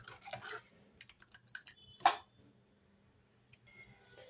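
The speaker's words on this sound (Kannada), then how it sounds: "ನೋಡಿ ಫ್ರೆಂಡ್ಸ್, ಇವಾಗ ಕುದೀತಾ ಇದೆ" Sambar simmers and bubbles in a pot over a village kitchen fire, giving soft, irregular pops and wet splutters that sound faint and close. Nobody speaks.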